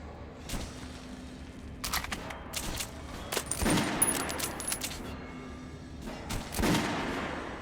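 Gunfire in the video game Metro Last Light Redux, several sharp separate shots and clanks spread irregularly over several seconds, with metallic rattles and game effects between them, no talking.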